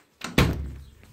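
A door slammed shut with a costume caught in it: a soft rustle, then one loud, close thunk that rings briefly and fades.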